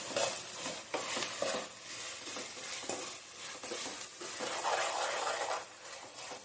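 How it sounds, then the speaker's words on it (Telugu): Ginger and onions frying for an Andhra mutton curry, a soft steady sizzle broken by repeated scraping stir strokes of a spoon against the pan, fairly quiet, with no talk. "అల్లమును ఉల్లిపాయలు అన్నీ శుభ్రంగా బాగా వేగినాయి"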